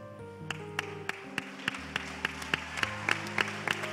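Church congregation applauding during a Sunday service, a steady patter of scattered hand claps running through the whole stretch with sustained organ or keyboard chords beneath.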